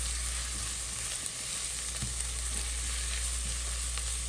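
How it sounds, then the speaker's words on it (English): Lobster ravioli stuffing fries in a pan with a steady, close sizzle that stays loud and even throughout, with no talking. "I'm gonna fry that a little bit here"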